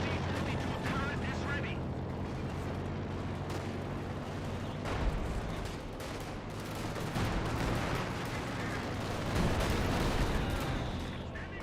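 An artillery barrage in Company of Heroes 2 rolls on as a dense, continuous stream of booms and rumbling gunfire, with a voice talking over it throughout.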